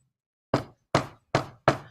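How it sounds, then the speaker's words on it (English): Four firm knocks on a door, evenly spaced and close by, each a sharp rap that quickly fades, with silence before the first. "A knock at the door."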